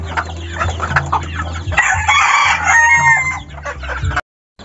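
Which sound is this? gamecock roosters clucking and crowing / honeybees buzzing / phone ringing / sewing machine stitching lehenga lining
gamecock roosters clucking and crowing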